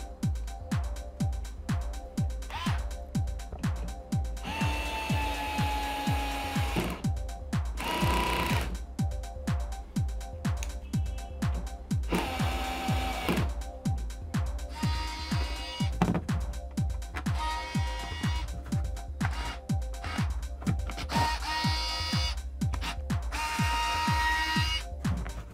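Gears slipping inside a Bosch Go Gen 2 cordless screwdriver, a steady, rapid mechanical ratcheting click repeating evenly at close range, with brief higher whirring runs of the motor over the ticking.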